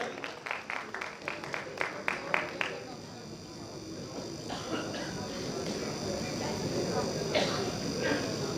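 Crowd applause and clapping at an international pharmaceutical conference award ceremony, after a first prize is announced for an oral presentation; distinct claps at first, then settling into a steady, sustained wash of clapping with murmuring voices.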